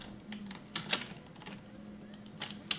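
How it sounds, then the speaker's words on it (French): Keys clack on a computer keyboard in quick, irregular bursts of typing, a few sharper taps standing out, fairly faint and close, with a low steady hum underneath and no talking. "il va falloir peut-être que je me trouve un autre clavier parce que j'ai l'impression que vous allez m'entendre pianoter non-stop"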